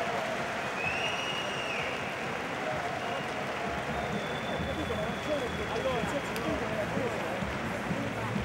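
Sustained applause from a crowd at an Italy vs China ring combat event honouring the two fighters, Bergamini and Bateer. It forms a steady, dense wash of clapping at moderate distance that fills the whole stretch, with voices mixed underneath.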